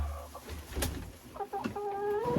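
A Faverolles rooster in a winter henhouse gives a few close, loud clucks and a short drawn-out call, with some handling noise around it and no one speaking.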